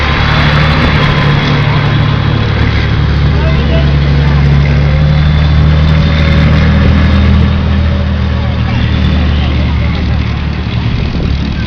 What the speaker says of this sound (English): you can see the engine, it sounds slightly different, it's slightly higher engine deck